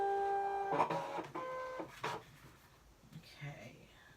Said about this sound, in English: I'm just loading this into my Scan and Cut. You'll hear a little bit of noise.